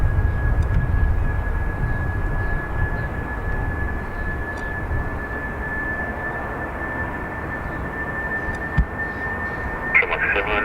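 A British Airways airliner departs Dublin Airport for London Heathrow, its engines a steady broad roar with a thin high whine, heard from a distance and fairly even throughout.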